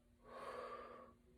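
A long, breathy exhale during a children's yoga stretch, swelling and fading over about a second and close to the microphone, with no talking.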